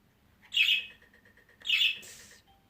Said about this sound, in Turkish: şu an biraz kuşum sinirli arkadaşlar